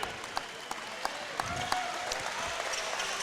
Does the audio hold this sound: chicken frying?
no